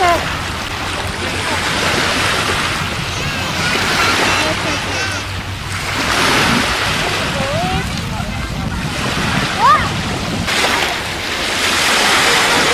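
Sea surf washing onto the beach at Prestatyn as the tide comes in, a steady broadband wash of breaking waves with wind buffeting the microphone and voices talking over it.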